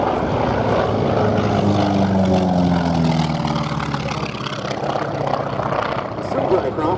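A North American T-28 Fennec propeller aircraft flies aerobatics at the Duxford airshow, its loud radial engine drone rising and falling in pitch throughout while someone talks over it.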